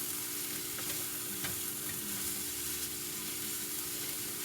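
Meat pie filling stirred in a frying pan, giving a steady, soft sizzle with faint occasional scrapes of the utensil, moderately quiet and without speech.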